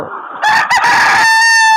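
A rooster crows loudly and close by at a layer poultry farm, one long strained call rising after a short cluck, with no talk.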